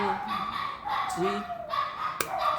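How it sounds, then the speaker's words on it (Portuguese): Dogs bark and yip a few times in the background while a person keeps talking over them. "Vocês vão ouvir os cachorros"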